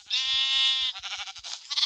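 Sheep in the Minecraft video game give a loud, sustained bleat lasting almost a second, then a few shorter wavering bleats follow close by, with no talk.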